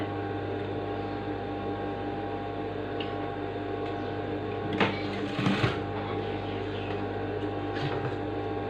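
A sewing machine hums steadily while stitching a smock frock, a continuous near mechanical drone with a few brief louder bumps from handling the fabric.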